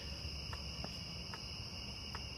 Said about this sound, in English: Crickets are going crazy tonight.